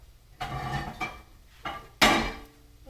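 A lid set down over a pan of cauliflower bhaji cooking on a low gas flame, giving several clanking metal knocks, the last one loudest and ringing, close by with no talking.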